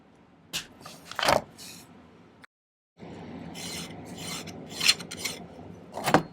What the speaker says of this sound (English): Cut it off and file it about there